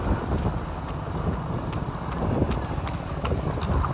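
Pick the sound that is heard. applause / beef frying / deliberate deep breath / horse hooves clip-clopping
horse hooves clip-clopping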